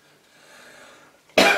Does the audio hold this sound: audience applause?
no